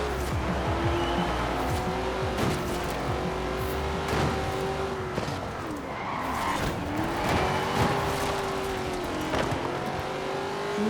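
A Holden VL Commodore races in Forza Horizon 4, its engine roaring steadily and loudly throughout, with repeated tire squeals and skids as it pushes through traffic from the back of the grid.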